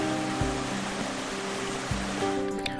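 Flowing water of Empress Creek near Wentworth Falls, a steady broadband rush like a small cascade running continuously and close by, with a few soft thumps underneath.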